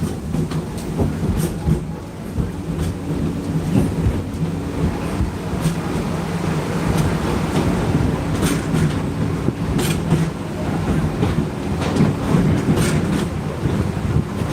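A train at Disney's Animal Kingdom rumbles loudly nearby with rhythmic clacking of wheels over rail joints, the steady noise holding throughout as it rolls in and slows to a full stop.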